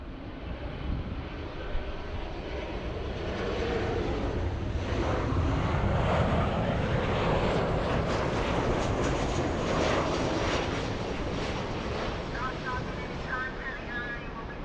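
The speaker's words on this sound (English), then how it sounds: "Next arrival we have is United Airlines 1252 flying in from Denver." United Airlines flight 1252 from Denver comes in to land at LAX, a broad jet engine roar that swells in the middle and eases off, moderately loud, with wind noise on the microphone.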